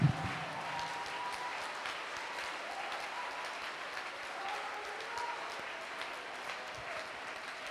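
A church congregation at an Easter resurrection service breaks into sustained applause, a dense, even clapping that fills the room and carries on throughout, with a faint murmur of voices underneath.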